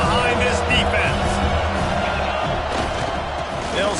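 Stadium crowd at a football game on a big third down, a dense continuous roar of cheering and noise under commentator talk, steady and loud throughout.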